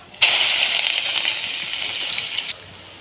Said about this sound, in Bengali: এবারে পেঁয়াজ আর কাঁচা লঙ্কাগুলো দিয়ে দেবো